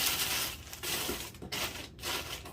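Soft, quiet rustling and crinkling as cushioning packing material is pushed into a cardboard shipping box, in uneven bursts with short gaps.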